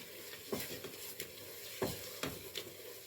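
Ghee sizzles and fries in a pan for a béchamel sauce, a steady soft crackle broken by a few sharp stirring scrapes, fairly quiet and close with no talking.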